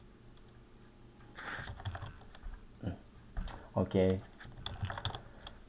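Computer keyboard typing while setting up a number slider in Dynamo for Revit, with bursts of key clicks scattered through the clip and a brief spoken word in the middle.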